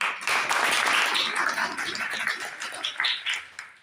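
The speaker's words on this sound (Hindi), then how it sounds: "मन करे आप तालियों से स्वागत करें" A school audience at a Teachers' Day program welcomes a performer with applause, a full burst of many hands that swells early, then gradually thins and fades.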